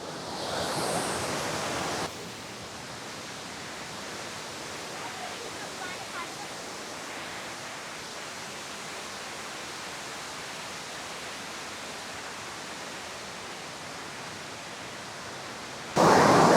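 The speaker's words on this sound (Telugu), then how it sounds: "పదండి కిందకి వెళ్ళి వాటర్ ఫాల్స్ చెక్ చేద్దాం." Kothapalli waterfalls, water pouring down over hills, a dense steady roar heard from a distance, unbroken throughout with a brief louder burst of wind at the start and end.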